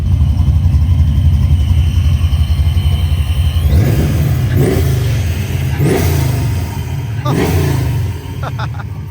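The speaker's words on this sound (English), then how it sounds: "Vortex supercharged V8." A Vortex supercharged V8 car engine fitted with a manual throttle valve revs hard about four times in quick succession. Each loud, near blip rises over a deep, steady idle rumble, with faint voices in the background.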